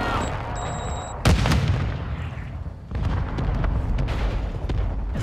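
Booming explosions and gunfire from a video game battle, most likely mortar fire, with a heavy blast at about one second followed by a continuous rumbling barrage of shots and impacts.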